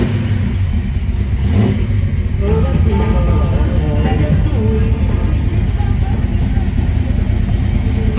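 A 1972 Chevrolet Chevelle fires up and settles into a loud, steady rumbling idle close by, with a brief rev early on and low talk underneath.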